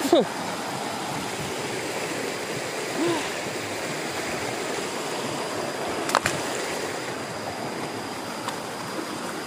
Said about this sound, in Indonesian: Akhirnya kita sampai di sungai.